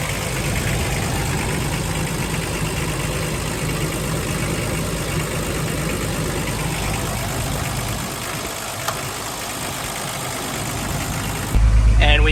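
Toyota Land Cruiser engine idling steadily at close range, a continuous low rumble with light mechanical chatter, then cutting off abruptly near the end.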